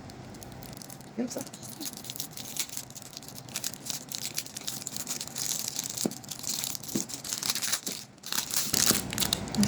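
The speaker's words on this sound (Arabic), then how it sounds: "راح نفتح معاكم الشوكولاتة" A Dubai-style chocolate bar is unwrapped and opened, its wrapper crinkling and tearing loudly and close in continuous bursts while people talk excitedly throughout.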